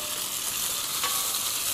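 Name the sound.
stir-frying ginger with rock sugar and doubanjiang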